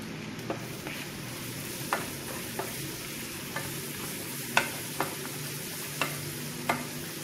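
Onions and green chilies frying in a pan for an egg curry, with a steady soft sizzle broken by regular spatula stirs and scrapes, close and moderately quiet with no talking.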